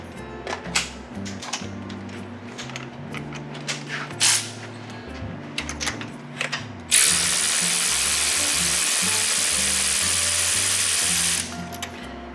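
A ratchet fitted with a 5/8 spark plug socket works a spark plug loose on a 2008 Ford Taurus, giving a run of close, irregular clicking strokes followed by a sustained, steady ratcheting buzz.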